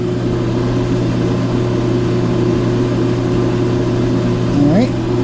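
An Ammco brake lathe runs steadily with a brake disc mounted, giving a constant mechanical hum that gradually speeds up, with a brief rising squeal near the end.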